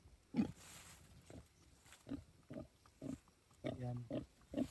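A free-range sow grunts repeatedly at close range, short low snorts spaced about every half second over a quiet background.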